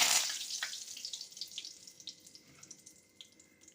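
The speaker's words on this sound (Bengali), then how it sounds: "আমি এখন কারি পাতাটা ফোড়ন দিয়ে দিচ্ছি।" Curry leaves tempered in hot white oil crackle and sputter, opening with a sharp burst that settles into scattered quick pops fading over a few seconds.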